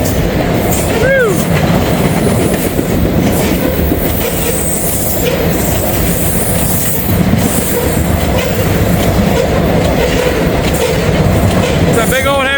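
A heavy grain train rumbles across a bridge with steady clickety-clack from the wagons and occasional high wheel squeals, loud and continuous throughout, with brief talk faintly underneath.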